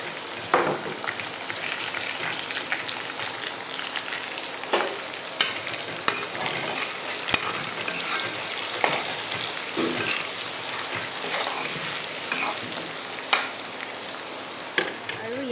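Onions fry in a pan for a mutton curry, with a continuous sizzle broken by frequent sharp clicks and scrapes of stirring.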